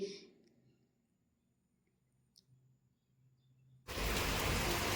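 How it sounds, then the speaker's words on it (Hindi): Heavy rain falling continuously since the night before, hardly audible at first over a low hum, then bursting into a loud, close, steady rush for the final second. "अभी भी लगातार बारिश है, कल रात से झमाझम बारिश हो रही है"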